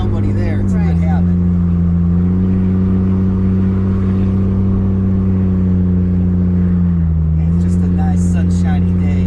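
Steady interior drone of a 1985 Toyota Supra MK2 fitted with a 2JZ-GTE engine while driving, the pitch dipping and rising slightly as it cruises, with people talking over it.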